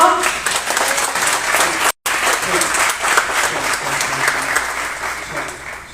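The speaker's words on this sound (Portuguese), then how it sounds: "Você pode aplaudir ao Senhor?" A church congregation applauds steadily during an evening service, a dense, even wash of clapping that continues for several seconds with only a brief cut, and no voices stand out above it.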